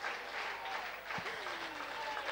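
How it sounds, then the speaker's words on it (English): Crowd applauding at a rugby match after a try, continuous clapping at a moderate distance with a commentator's voice speaking over it. "I can't hear a thing from all of this applauding."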